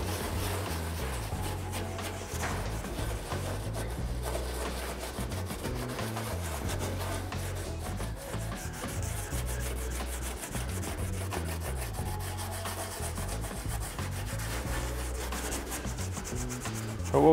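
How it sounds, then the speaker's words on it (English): A Scotch-Brite pad scrubs softened paint off the body of an old campervan, a steady, close, rhythmic abrasive rubbing that continues without pause, with no talk. "hopefully by the time I come back over it with the Scotch-Brite, it started to soften the paint and I can lift it off."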